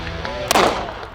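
A single sharp gunshot cracks out close by during a farmers' shooting competition, loud and sudden, then fades quickly.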